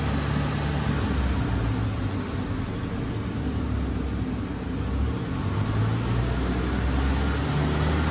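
A car engine runs steadily near the microphone during a Picoscope sensor test, with a low even hum and faint swells that could be a light rev, and no speech.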